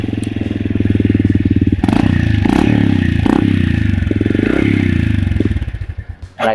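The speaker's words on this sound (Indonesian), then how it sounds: "Suaranya cukup ngebas. Coba kita dengerin ya." A WMoto Porter 125 underbone motorcycle idles near the microphone, its engine and high-mounted exhaust giving a steady, deep, bassy putter with a few sharp blips of the throttle before the sound dips at the end.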